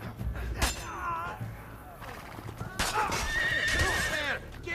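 A horse whinnies loudly in Assassin's Creed Brotherhood, then clip-clops along with hoofbeats before a second long, high neigh rings out near the end.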